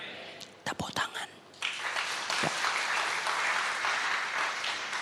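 Applause from a church congregation during a sermon, sharp claps at first that swell into a sustained, fairly distant wash of clapping, with some murmuring voices underneath.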